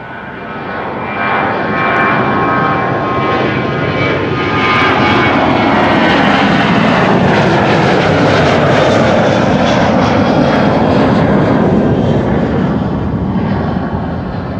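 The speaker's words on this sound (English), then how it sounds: "Another departure here from the Kaagbaan in the meantime. KLM Flight 1231 to Göteborg." A KLM Boeing 737-900 departs from the Kaagbaan runway at Amsterdam Schiphol, its jet engines building into a loud, sustained roar that swells and holds across the whole stretch, with no voices present.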